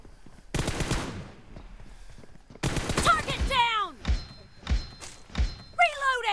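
Gunfire in the mobile battle royale game PUBG Mobile played on an iPad, with two rapid bursts of automatic fire followed by several separate heavy shots and whooshing effects, loud and close, with a voice speaking between.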